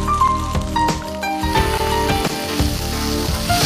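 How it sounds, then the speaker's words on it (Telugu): Corn kernels fry in a pan with a steady, close sizzle and occasional light crackles, heard under tonal background music. "సో ఈ కార్న్ మొత్తం వేసుకుందాం, కొంచెం ఫ్రై చేద్దాం."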